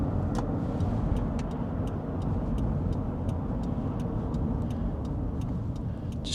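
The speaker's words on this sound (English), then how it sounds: "The engine idles smooth as it should." A car engine idles steadily with a constant low rumble, dense and even throughout, with faint light ticking on top and no voices.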